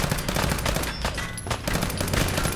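Rapid gunfire from a weapon in the Fallout 4 video game, with dense, continuous bursts of shots sustained throughout and no break between volleys.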